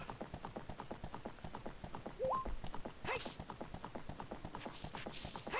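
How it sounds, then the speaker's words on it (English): Epona, the horse in the video game Ocarina of Time, gallops with a quick, steady clip-clop of hooves, faint and continuous, broken by a short neigh midway. "I think Epona's sound is like a cow as well."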